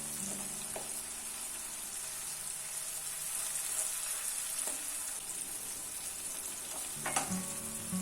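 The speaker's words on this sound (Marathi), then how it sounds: "आपले टोमॅटो देखील खूप सुंदर ह्याच्यामध्ये कुक होत आहेत" Tomatoes sizzling in Goan prawn balchão sauce in a pan, a steady close frying crackle and hiss with a few soft stirring knocks, no voices over it.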